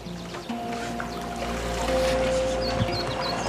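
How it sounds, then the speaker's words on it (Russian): A handmade wooden rowing boat being rowed on Lake Bled, with soft water swishes and splashes from the oars and low hull rumble, under a faint steady background tone. "Такими веслами легче грести."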